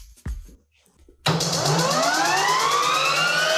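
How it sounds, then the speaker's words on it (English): A jet-engine motorcycle starts up after a few faint clicks and small noises, then a loud, steady whine rises in pitch and holds close by. "Well, this one has a jet engine."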